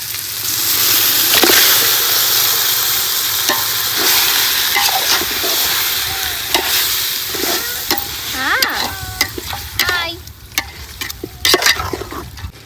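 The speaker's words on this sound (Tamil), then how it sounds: "கழுவி வச்சிருக்க சிக்கனை சேர்த்துக்கலாம்." Turmeric-washed chicken for a village-style chicken biryani hits a hot pan and fries with a loud, continuous sizzle, while a spoon scrapes and stirs it in irregular knocks and scrapes.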